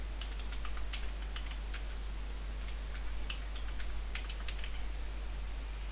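Rapid, light clicks of keys on a computer keyboard tap out in irregular bursts over a steady low hum, fairly close and quiet, with no talking.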